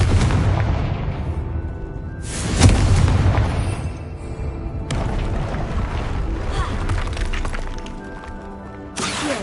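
Confringo fire spell blasts in the Hogwarts Legacy video game: loud booming bursts near 2.5 s and 5 s over a continuous rumbling, crackling game background, with faint speech mixed in.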